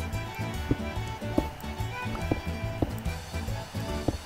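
Minecraft horse hooves clip-clopping in a steady rhythm of sharp, evenly spaced clops over looping background game music, with no talking.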